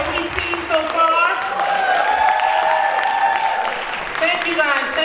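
A crowd at a poetry event keeps applauding for all the poets, continuous clapping at moderate loudness with cheers and voices rising above it.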